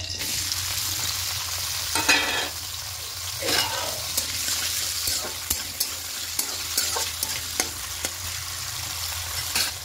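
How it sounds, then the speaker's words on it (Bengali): Chopped onion and tomato fry in hot oil for a potato and pointed gourd poppy-seed dish. A steady sizzle sits under rhythmic spatula scrapes and taps against the pan. "এবার এই তেলের মধ্যে পেঁয়াজ কুচি আর টমেটো কুচি দিয়ে দেবো।"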